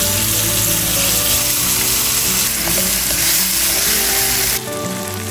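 Shrimp tossed with garlic sizzle and fry steadily in hot cooking oil in a pan, a loud, dense crackle that holds throughout and eases slightly near the end.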